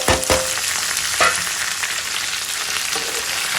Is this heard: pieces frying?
yes